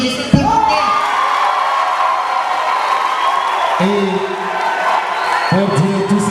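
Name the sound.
audience applauding and cheering at awards ceremony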